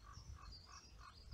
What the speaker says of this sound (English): that's the raven calling.